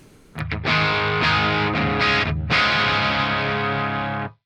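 A heavily distorted electric guitar through an Axe-Fx III modelling a Lovepedal Amp Eleven drive rings out in sustained chords, loud and thick, with brief breaks between strums before fading out.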